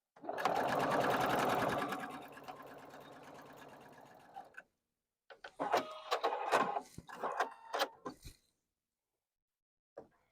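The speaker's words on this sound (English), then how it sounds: "Just sewing around a square." Sewing machine stitching a quarter-inch seam around a quilt block square, a loud continuous whirring run that tapers off, then a few shorter stop-start bursts of stitching before silence.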